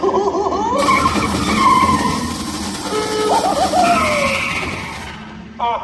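A taxi car skids away with a sharp tire squeal and engine noise, loud and close, with voices talking over parts of it in a theatrical show setting.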